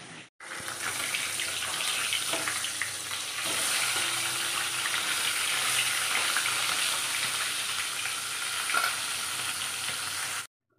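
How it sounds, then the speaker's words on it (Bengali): Fish and fish heads fry in a pan in a Bengali home kitchen, giving a steady, close, continuous oily sizzle that runs unbroken for about ten seconds. "মাছ ভাজা, মাছের মাথা ভাজা হয়ে গেল।"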